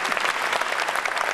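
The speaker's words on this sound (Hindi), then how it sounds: "एक बार आप हजरात उनके लिए तालियां ज़ोरदार बजा दीजिए" An audience at a kavi sammelan and mushaira breaks into dense, vigorous applause, a steady wash of many hands clapping close by for the whole moment, with no clear talking over it.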